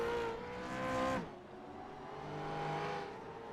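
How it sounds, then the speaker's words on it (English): A V8 Supercar engine in the iRacing video game at Circuit of the Americas screams at high revs, with a sustained tonal whine that drops sharply after a second and then holds at a lower, fainter pitch. "You can almost hear the screams of the motor over my screams."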